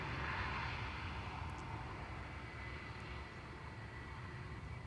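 A Tarom airliner arriving from Bucharest at Amsterdam Schiphol's Polderbaan runway gives a steady, broadband engine roar that holds loud and even throughout, with no talk.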